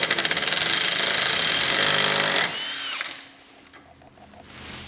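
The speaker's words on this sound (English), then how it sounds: "Luckily I have this handy impact wrench and it should come off really easy." An impact wrench loosens a car's CV axle nut during a drive shaft removal, a loud, dense continuous hammering rattle for about two and a half seconds, then stopping abruptly into quieter workshop noise.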